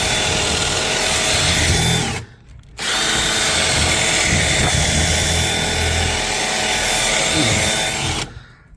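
A power drill bores out a rivet on a racing car bump bar, a loud grinding whine running in two long bursts separated by a short pause.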